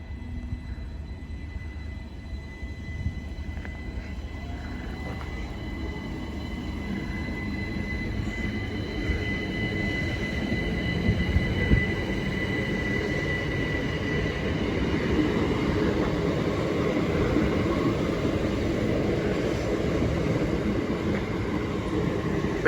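A test train and a mobile maintenance train pass through Deal station with a steady rumble of rolling wheels, faint squeals and rail clatter building slightly over some twenty seconds, fairly quiet, without talking.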